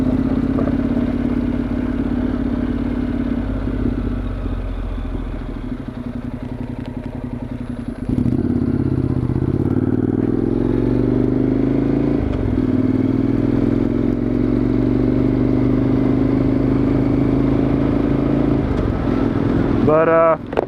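A 2013 Honda NC700X motorcycle rides over rocks, its engine droning steadily and loudly up close while the tyres and chassis clatter and scrape across the rough ground throughout.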